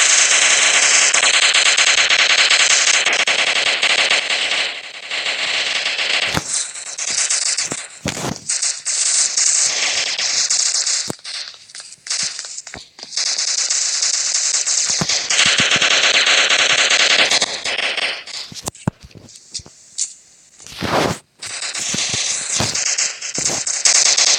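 Gunfire in the Block Strike video game: loud, dense bursts of automatic weapon fire with rapid rattling shots, brief gaps and single cracks, continuous through most of the stretch.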